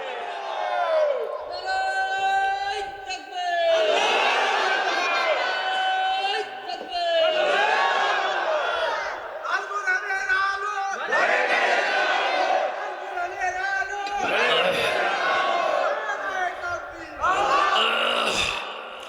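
A crowd at a Bengali religious sermon shouting takbir in repeated loud collective chants, answered in waves with brief pauses between the rounds of shouting.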